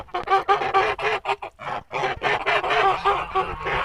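Four-month-old Kholmogory geese let outdoors after rain give repeated honks and clucking calls, close and loud in uneven bursts, a small flock calling over one another.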